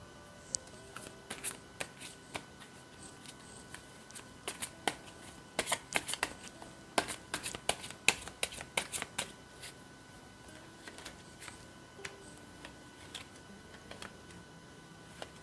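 Tarot cards shuffled by hand up close, a steady stream of crisp papery riffles and flicks with denser bursts in the middle, soft and alone with no talking.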